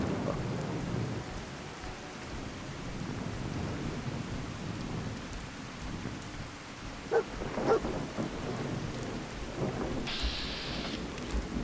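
Steady rain and rolling thunder from a thunderstorm in Fallout 4, with low rumbling throughout, a couple of sharper cracks near the end and a brief high tone.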